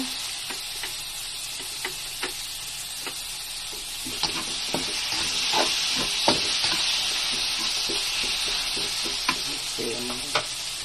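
Tomatoes fry in a pan with a continuous close sizzle and a bright hiss. Occasional utensil taps and stirring scrapes break through at irregular intervals, with no talk.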